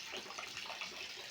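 Heavy, unbroken village rain pours down in a steady, dense hiss with a watery wash that never lets up across the whole moment.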